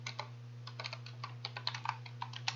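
Fingers typing a folder name on a computer keyboard: a quick run of light key clicks, irregular and close, over a steady low electrical hum, with no voices.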